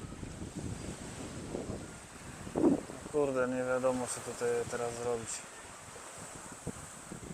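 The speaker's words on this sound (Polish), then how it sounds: "Za duża fala." Wind rushes across the microphone while big waves from Lake Żarnowiec wash onto the beach nearby. Someone speaks briefly partway through.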